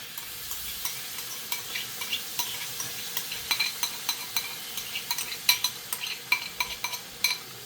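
Thick, non-sour curd going into frying masala for a fried chicken biryani, with a steady sizzle and repeated scraping, stirring clinks of a spoon against the pan that come close and grow more pronounced toward the end.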